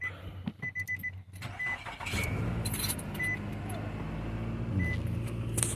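A 2009 Nissan Altima starts after its electronic steering lock is replaced: a few key clicks and chimes, then the starter cranks and the engine catches into a steady idle, close by.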